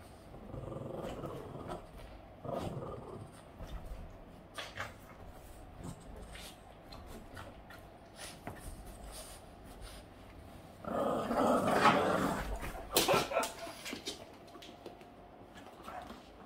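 A Boston terrier growls while playing, with bursts of low rumbling growls and snarls spread irregularly across the clip, a louder stretch near the end, and no talk.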